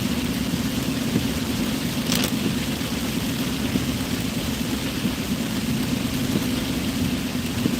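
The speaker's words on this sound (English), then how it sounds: "It's raining hard now" Heavy rain in a thunderstorm, a dense steady roar of downpour heard from inside a car, with a faint crack of thunder partway through and no talking.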